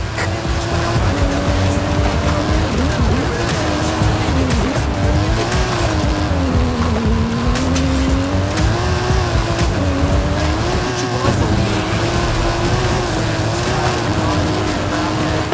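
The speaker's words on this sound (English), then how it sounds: "That stunt vehicle is a Mike Steel Special. Custom engine and suspension." A custom-engined stunt car in the Forza Horizon video game, a loud sustained engine drone rising and falling in pitch with continuous tire squeal and skidding layered over it, close and dense throughout.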